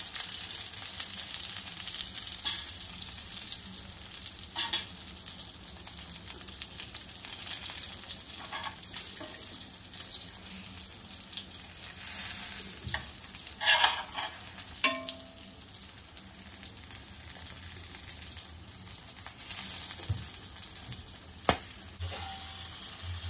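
Stuffed green chillies (bharleli mirchi) frying in a pan, a soft steady sizzle with occasional faint pops and stirring clicks, fairly quiet and close, with no talking.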